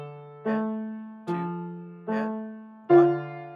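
A piano plays the opening of Heiveinu Shalom Alaychem with both hands, striking four steady, evenly spaced chords. Each chord rings clearly and fades before the next one sounds.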